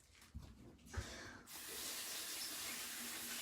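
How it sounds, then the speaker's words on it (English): A tap at a sink is turned on partway through and runs in a steady, close rush of water for rinsing hair dye off, after a few quiet handling bumps. "I'm gonna rinse these off real quick and get the color off my head."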